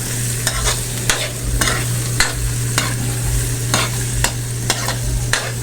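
Garlic stirred and sizzling in a hot pan, a steady frying hiss broken by regular scraping strokes of a utensil, close and loud with no voices.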